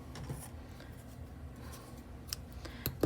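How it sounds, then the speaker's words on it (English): Scissors snip knitting yarn on a finished knitted hat: a couple of faint, brief cuts near the end, over a quiet room hum. "And then cut the yarn"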